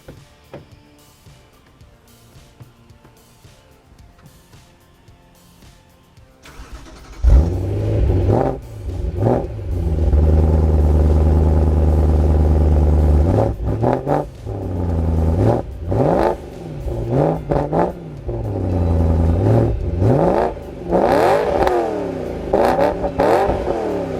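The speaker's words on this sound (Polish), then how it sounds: "A do tego ten wydech naprawdę pięknie brzmi. Posłuchajcie." After a quiet start, a 2008 BMW M3 E90 engine fires up with a deep exhaust roar, then revs repeatedly in loud surges and drops, close and aggressive.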